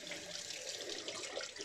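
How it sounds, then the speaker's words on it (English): Cold tap water runs from a bathroom faucet into the sink to wet a razor for shaving, a steady, fairly quiet close stream with no voices. "Wet the razor, cold water shave as usual."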